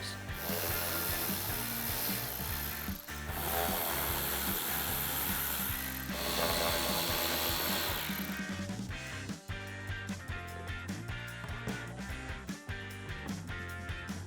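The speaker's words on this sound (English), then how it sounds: "Now we need to remove the 3 bolts on our stock airbox using our 8mm socket" A ratchet with an 8mm socket loosens the stock airbox bolts on a 2019-2022 Chevrolet Silverado 1500. It gives loud, close, continuous clicking that grows into a more rapid, choppy ratcheting toward the end.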